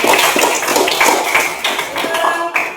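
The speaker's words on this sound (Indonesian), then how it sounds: "Beri tepuk tangan." A group of students in a school PE lesson claps hands in a steady, fairly loud, continuous patter that lasts the whole short stretch.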